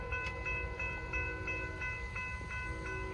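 A large northbound Norfolk Southern freight train rolls steadily past in the rain near Gaffney, South Carolina, a continuous low rumble with faint rhythmic wheel clicks and a sustained tonal hum, heard alone without talk.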